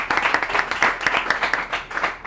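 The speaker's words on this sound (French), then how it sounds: "Bon point, on l'applaudit très fort." An audience at a school quiz competition applauds a student, giving a brisk, close burst of rhythmic clapping that stays steady throughout.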